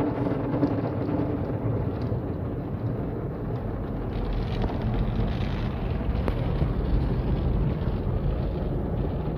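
Water sprays steadily onto a car at a car wash during the rinse after soaping, a constant broadband hiss and rush lasting the whole stretch.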